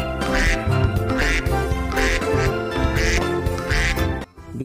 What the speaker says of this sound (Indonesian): Dan ini ada induk bebek ya warna hijau teman.